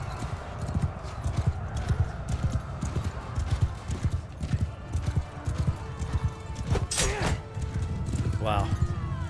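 Horses gallop in Mount & Blade II: Bannerlord, a dense run of loud hoofbeats thudding steadily for several seconds, with a neigh near the end and a voice talking over the action.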